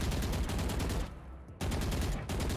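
Rapid automatic rifle fire in Valorant, loud sustained bursts of closely spaced shots broken by a brief half-second pause, then firing resumes, with no talk over it.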